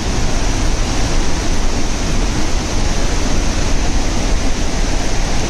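Athirappilly waterfall in Kerala pouring down during heavy rain, a loud, steady broadband roar of falling water filling the whole span without pause or voices.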